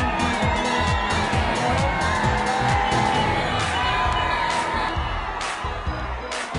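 Two cars pull up one after another outside Hotel Ashoka in Vita, Sangli, where a crowd has gathered, heard as a continuous loud engine roar with squealing tires and a faint crowd murmur beneath.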